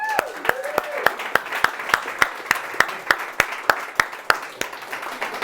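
A room of workshop participants applauds themselves with brisk, rhythmic clapping in regular beats. A voice trails off at the very start.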